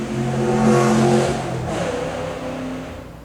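A Corvette engine revs loudly close by, a strong throaty roar that swells and then eases off as the car goes past, with no other sound on top of it.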